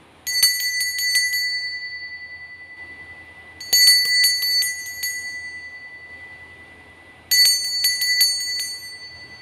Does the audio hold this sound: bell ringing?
yes